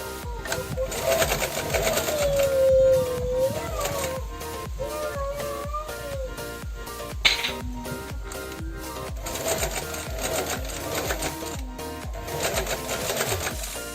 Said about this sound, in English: when I sew over the elastic, I normally do a back stitch, so to keep my elastic in place